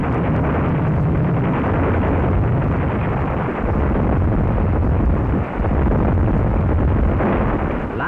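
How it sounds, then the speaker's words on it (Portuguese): Sustained rumbling bombardment from the German cruiser Schleswig-Holstein shelling the Polish Westerplatte fortress, a dense, loud wall of blasts and booms with no pauses, heard in archival World War II film sound. "Bombardeio pelo cruzador alemão Schleswig-Holstein contra a fortaleza polaca de Westerplatte."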